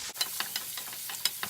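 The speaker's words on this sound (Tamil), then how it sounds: "இந்த வெங்காயம் நல்லா எண்ணெயிலேயே சுருண்டு முதல்ல வேகட்டுங்க." Chopped onions, green chili and curry leaves fry in oil in a pan for South Indian garlic rice, with a soft sizzle under quick, repeated scraping stirs.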